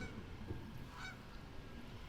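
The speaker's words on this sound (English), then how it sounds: "The goose is coming right for her." Goose honking out in the open at a disc golf course during a women's tournament round, a faint call over steady outdoor background noise.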